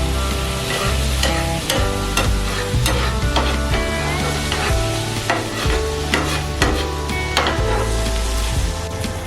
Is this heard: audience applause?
no